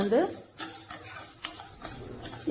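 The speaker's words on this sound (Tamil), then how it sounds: "இது 75 கிராம் பாசிப்பயிறு போட்டு இது வந்து நல்லா கொஞ்சம் செவக்க வறுத்துக்கணும்." Mung beans dry-roasting in a pan over medium flame while being stirred, a series of dry scraping strokes and light rattles over a faint sizzle, close up and alone.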